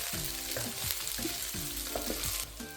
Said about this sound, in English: Stir fry them until the aroma is released